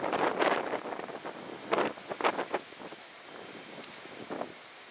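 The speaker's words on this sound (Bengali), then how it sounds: "তো প্রচণ্ড ঘূর্ণিঝড় হচ্ছে। আমি গেছিলাম একজনের সঙ্গে দেখা করতে, বিশাল বিশাল আকারের বাতাস" Strong wind from Hurricane Francine in New Orleans buffets the microphone in loud, uneven gusts that rise and fall, easing to a quieter rush toward the end.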